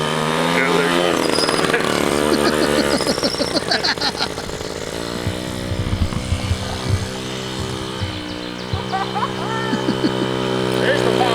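A small scooter engine cranked and running, its buzzing two-stroke-like drone rising and falling with throttle blips, close and loud, with people talking over it.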